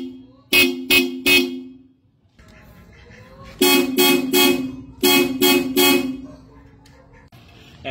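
A Blaupunkt disc car horn blares in short bursts: three quick honks, a pause, then two rapid sets of three loud, bright toots close by.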